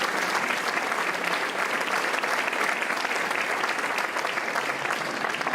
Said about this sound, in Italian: Un applauso a queste due persone.